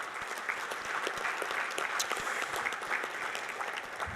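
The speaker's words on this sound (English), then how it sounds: "Please give those individuals a big round of applause." An audience at a Hall of Fame induction banquet applauds the event's sponsors with dense, steady clapping that fills the room evenly for several seconds at moderate level.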